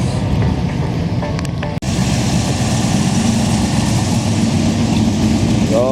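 A Holden HR Premier's engine idles and rumbles nearby as the car rolls into a busy car meet, a steady low drone that holds throughout with brief crowd voices in the background.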